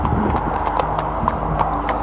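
Horse hooves clip-clop in a steady rhythm as a rider travels near Wild Horse Creek in January, the hoofbeats close and fairly loud over a continuous low rumble, with no talking.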